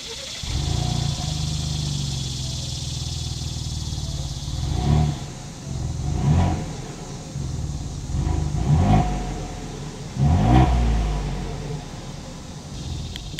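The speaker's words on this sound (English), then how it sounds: "As always, here is that exhaust clip." A 2021 Ford Bronco Wildtrak engine idles with a deep exhaust rumble, then revs up several times in short bursts, loud and close.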